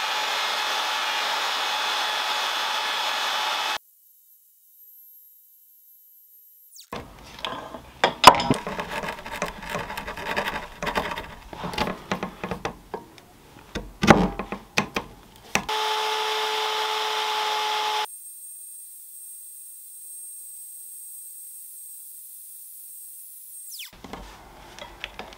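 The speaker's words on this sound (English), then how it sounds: "I then moved on to carving out the recesses for the front and rear mounting points" Recesses for the front and rear mounting points are carved into a wooden roller speargun stock with a power tool, a burst of uneven grinding and scraping set between long stretches of steady motor whine and hiss.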